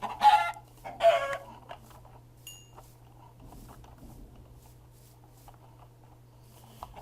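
Two short bursts of chicken clucking from the video game Minecraft open the moment, followed by near-quiet with faint scattered clicks and a low steady hum.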